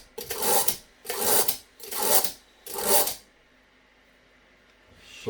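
A blunt kitchen knife is drawn through a pull-through sharpener four times in steady rhythm, each stroke a loud, close, gritty rasp lasting about half a second, then quiet.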